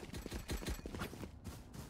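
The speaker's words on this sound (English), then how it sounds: "Shotgun, baby." A shotgun firing in a video game: a quick run of loud, close blasts in the first second and a half, then a final shot after a short gap.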